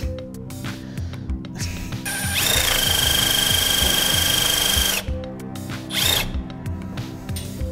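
Socket ratchet wrench working on a 1973 Triumph Spitfire, close and loud, with a rapid clicking ratchet burst lasting a few seconds amid other workshop clatter.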